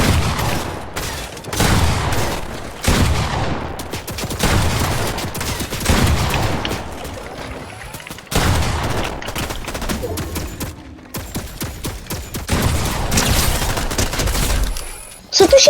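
Bursts of gunfire from a turret in the video game Fortnite crack in repeated volleys with short gaps, loud and close, mixed with a voice talking at times.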